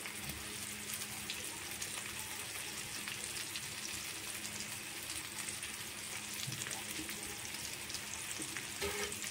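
Surmai fish frying in oil on a tawa makes a continuous, even sizzle with fine crackling, moderately close and steady throughout, with no voices.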